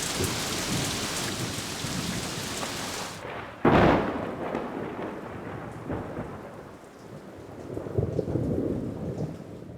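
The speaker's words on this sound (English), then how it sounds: "Another thunderstorm makes for heavy going" Heavy rain pours down during a thunderstorm over the Orange River, with a sharp, loud thunderclap breaking through near the middle before the steady downpour hiss continues.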